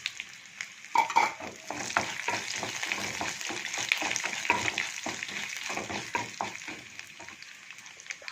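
Urad dal, chana dal, dried red chillies and cashews sizzle and crackle in hot oil in a pan while being stirred for coconut rice, a steady close frying hiss with scraping stir strokes throughout.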